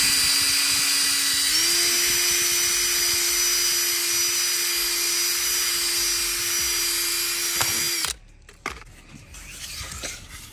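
A power drill whines steadily for about eight seconds boring a 5.5mm drainage hole through a Maxton body kit panel on a Vauxhall Corsa D, close and loud, then stops abruptly, followed by faint handling noises.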